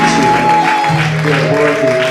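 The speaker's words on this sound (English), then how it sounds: "please put your hands together for our pastor, Pastor A.C. Jones, and his lovely wife" A church congregation at a eulogy service applauds their pastor, a steady wash of clapping from many hands that stays fairly even and loud throughout, with an organ chord sustained underneath.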